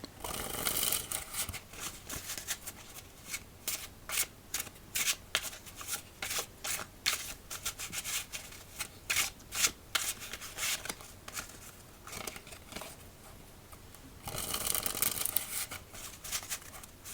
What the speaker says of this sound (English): And we'll give it one more shuffle before we begin.